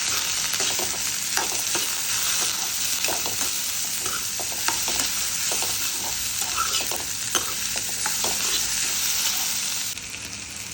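Chopped cabbage and potato stirred into hot frying oil over a lowered flame, a steady loud sizzle broken by scraping spoon strokes against the pan, easing slightly at the very end.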